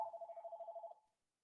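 A telephone rings once in a steady warbling burst lasting about a second, then falls silent, heard faintly during an interview.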